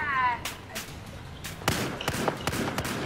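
Gunfire in the video game Battlefield 4 comes as scattered sharp shots and heavier thuds, some near and some distant, spread irregularly through the passage with faint voices in the background.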